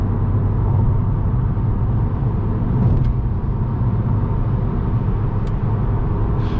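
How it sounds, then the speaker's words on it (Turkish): A Ford Transit van accelerating hard on a road, heard as a loud, steady engine roar with deep rumble that holds without a break, close by, with no talk over it. "Transit fena gazlıyor ama."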